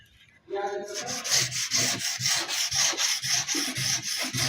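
A painter rubs a wooden children's bed headboard by hand, a continuous close abrasive rasping in quick regular strokes after a brief quiet start.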